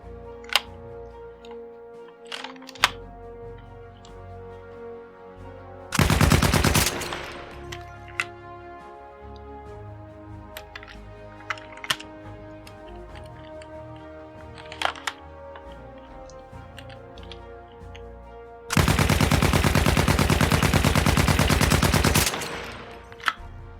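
A LEGO replica of a WW1 MP-18 sub-machine gun fires in two sustained rapid mechanical rattles, separated by scattered single clicks and handling taps.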